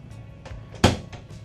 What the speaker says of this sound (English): you can actually close it off. There's a double hinged door that locks into place